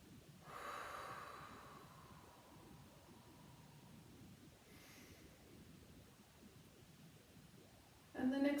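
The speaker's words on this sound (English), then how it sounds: "Even letting the breath exhale go through the mouth." A single soft breath pushed out through the mouth, a breathy whoosh that tapers off slowly, followed by quiet room hiss and a second fainter exhale midway.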